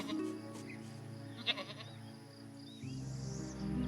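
A goat in the fantasy role-playing game Swordhaven: Iron Conspiracy gives a faint, short bleat over quiet ambient game sound and a low steady hum.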